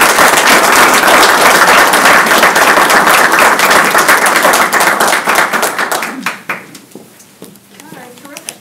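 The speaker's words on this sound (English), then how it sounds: "Round of applause for the new members, please" Meeting attendees clap for newly sworn-in members, a loud, full round of applause that holds for several seconds, then tapers off into a few scattered claps.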